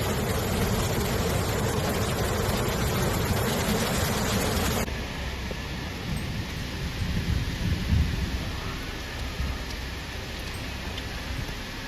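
Heavy rain pours with rumbling thunder during severe flooding in Spain, a loud dense roar that drops to a softer steady downpour midway, with low rumbles continuing underneath.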